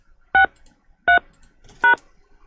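Three loud, clean telephone keypad DTMF beeps, evenly spaced about three-quarters of a second apart, entered as a conference call access code, with no other sound around them.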